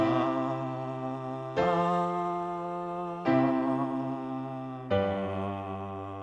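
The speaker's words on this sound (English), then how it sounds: "Now I'll hum the bass note." A voice hums a sustained low bass note under three chords held in turn on piano, the chords changing roughly every one and a half seconds, close and steady, with no talking.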